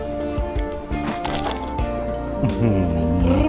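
Close, sharp crunching as a crispy crepe is bitten and broken, with several crackly bursts over music and voices in the background.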